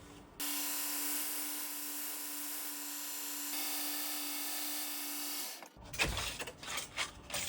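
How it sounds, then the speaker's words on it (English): A grinder shapes a wooden handle for a Santoku kitchen knife, giving a steady, close, high whine for about five seconds before it stops and gives way to clattering handling noises. "we're going to shape it before we glue it on. I'm going to do that over the grinder"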